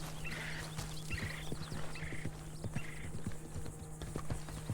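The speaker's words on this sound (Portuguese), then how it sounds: "Cavalos agitados." Agitated horses in the video game Red Dead Redemption 2 clop their hooves in a quick, uneven rhythm while several short whinnies ring out, fairly quiet against a low steady hum.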